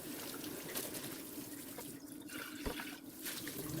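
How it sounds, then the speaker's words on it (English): Water runs steadily from a kitchen tap over sprouts in a strainer, a continuous close splashing rush with small shifts as the sprouts are rinsed. "So I'm going to put them in the strainer and rinse them really,"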